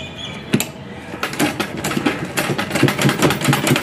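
A sewing machine stitches a fabric strip with a fast, even mechanical clatter of the needle that runs steadily after a brief start, close and fairly loud, with no talking.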